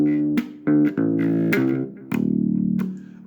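Simplified bass guitar line from the opening bars of a song, tuned to drop D: loud, close, sustained low notes plucked in a steady rhythm with short gaps, alone without voices.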